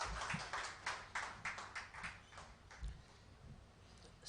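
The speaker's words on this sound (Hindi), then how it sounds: "सर अंकित सर के लिए जोरदार तालियां।" An audience gives someone a round of hand claps, heard as a series of distinct, fairly evenly spaced claps at low volume, fading out near the end.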